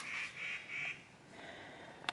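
Birds call outside a backpacking tent in the woods: three short, clear, nasal calls in quick succession, fairly close, then quiet and a single faint click.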